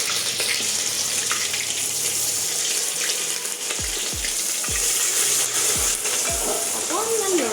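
Crushed ginger, garlic and cardamom sizzle steadily in a pan while a spoon stirs them, scraping the pan several times in a loose rhythm, close and moderately loud, with no talking.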